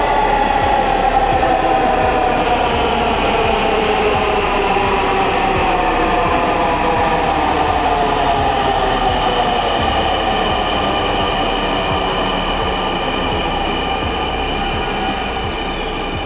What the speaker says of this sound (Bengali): অলরেডি মতিঝিলের দিকে আর একটা ট্রেন কিন্তু চলে আসছে